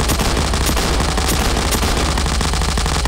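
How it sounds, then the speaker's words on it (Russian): A minigun fires in the video game Garry's Mod as one continuous, dense stream of loud rapid gunfire that runs through the whole stretch without a break. "А, мини-ган."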